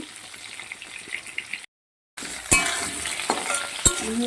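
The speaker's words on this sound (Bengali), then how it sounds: "আলুগুলোকে লাল লাল করে ভেজে নেব" Steady sizzle of potatoes frying in oil, with a few sharp clinks and scrapes of stirring, close by, broken by a brief silent gap.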